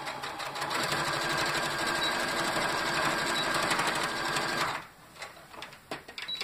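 A sewing machine stitches a seam on a shoulder bag in a fast, steady, whirring run for about four and a half seconds. It is close and loud, then stops and leaves a few light handling clicks.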